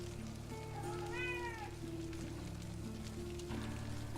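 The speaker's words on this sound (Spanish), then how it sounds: "Aquí la gata" A female cat meows once in a rising, drawn-out call at moderate distance over a steady hum and rain-like hiss, with no talking.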